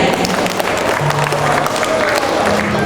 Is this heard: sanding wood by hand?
no